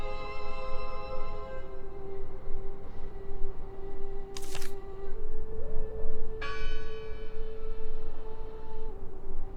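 A church bell rings in the horror video game Draugen, a sustained ringing tone with a second strike midway, clear and fairly loud over a dense noisy background, with no voices.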